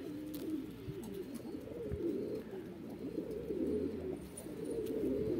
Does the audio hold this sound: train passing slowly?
no